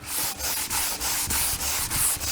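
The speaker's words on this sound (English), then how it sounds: "Get it pretty perfect to your panel, and then just do your scuffing lightly." 80 grit sandpaper scuffs a car body panel by hand during rust repair, about eight regular back-and-forth strokes, loud and close with brief pauses between passes.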